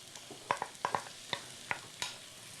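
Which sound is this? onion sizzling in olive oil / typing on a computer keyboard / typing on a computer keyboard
onion sizzling in olive oil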